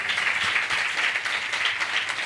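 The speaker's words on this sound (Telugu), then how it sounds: "ఆయన ఇక్కడ ఉన్న ప్రతి ఒక్క సేవకులకు గట్టిగా చప్పట్లు కొట్టండి." A church congregation claps loudly for the visiting servants at a Telugu worship service, a steady dense wash of applause filling the room with no voices on top.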